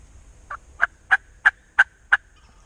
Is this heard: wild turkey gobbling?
yes